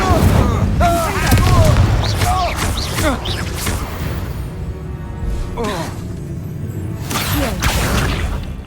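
An Incendio fire spell is cast in the Hogwarts Legacy game amid combat, giving booming whooshes and bursts over a dense battle background with voices and shouts.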